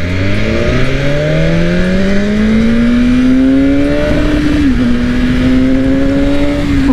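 A 2022 BMW S1000RR liter bike accelerating hard in a pull test, its engine note climbing steadily in pitch, loud and close with wind rush, briefly dipping at a gear change before rising again.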